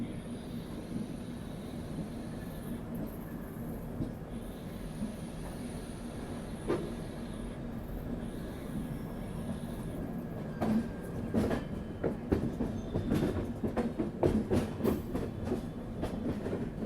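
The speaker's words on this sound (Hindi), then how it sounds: "हम लोग जा रहे हैं अब डायमंड क्रॉसिंग को पार करने।" A Tirunelveli–Bilaspur Superfast train rumbles steadily across the Nagpur diamond railway crossing, with a sharper run of wheel clacks and jolts over the intersecting rails in the second half. No voices are heard.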